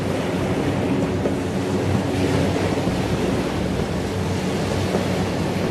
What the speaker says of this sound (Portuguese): grandes ondas batem diretamente nos prédios